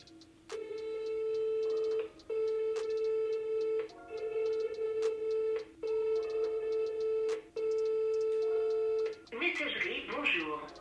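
Telephone ringback tone heard while calling someone, repeated steady tones in even bursts with short gaps, then a burst of voice at the end.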